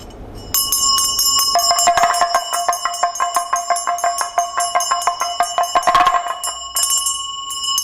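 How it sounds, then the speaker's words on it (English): Ritual hand bell rung close and loud, starting with a single strike, then a rapid continuous rhythmic ringing with bright sustained overtones before stopping. "So like this, the bell always starts first."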